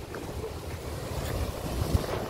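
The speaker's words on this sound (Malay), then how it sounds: "Ombaknya besar, takut saudaraku." Big sea waves rolling along the Aceh coast, a steady wash of surf and wind noise with a low rumbling swell that builds slightly toward the end, heard close and alone without talk.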